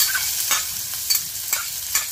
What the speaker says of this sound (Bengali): তেল একটু গরম হয়ে আসলে দিয়ে দিচ্ছি 1 কাপ পরিমাণ পেঁয়াজ কুচি।